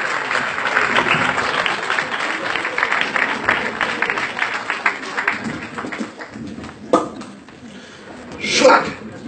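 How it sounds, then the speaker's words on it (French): An audience applauds at a stage talent show: dense, sustained crowd clapping that thins out after about six seconds, followed by a few scattered louder claps and noises. "on l'applaudit très fort"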